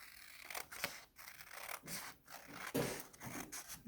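Scissors cut off a strip of excess paper while folding a paper snowflake, giving a few close, quiet snipping and rubbing sounds across several seconds with no talking.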